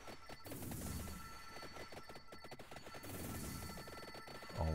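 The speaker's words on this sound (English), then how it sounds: "Oh, that's my ringtone." A ringing, ringtone-like electronic melody plays quietly amid busy Vampire Survivors game music and rapid clattering effects, with a brief louder burst at the end.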